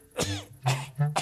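A cartoon cowboy character in a Lucky Luke episode coughs three times in quick, rough bursts, close and fairly loud.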